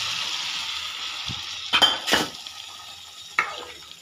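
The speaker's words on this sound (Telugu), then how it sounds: "చూడండి తాలింపు అనేది ఎంత బాగుందో, ఇందులో వేసేసుకోవడమే" Gongura dal receives a tempering and gets stirred, with a soft background sizzle under a few sharp clinks and scrapes of a spoon against the pot.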